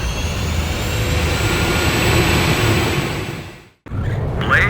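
Jet engine roaring on a carrier catapult before takeoff in the Ace Combat 5 video game, a loud sustained rushing whine that cuts out abruptly near the end, then returns.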